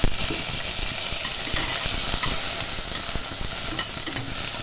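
Chopped tomatoes frying in hot oil with black cumin in a wok, a loud, dense, continuous sizzle and hiss up close, with light stirring scrapes scattered through it.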